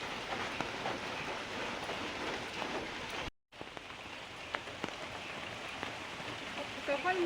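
Rain falling steadily on a day-long rainy day, a dense, even hiss of drops with a brief dropout midway and a voice heard faintly.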